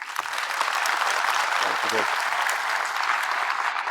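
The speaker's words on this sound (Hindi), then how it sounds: "एक बार उनको याद करते हुए उनके लिए जोर से ताली बजाइए" Loud audience clapping at a medical exam coaching event in Delhi, a sustained burst of many hands applauding together, with a brief voice heard underneath.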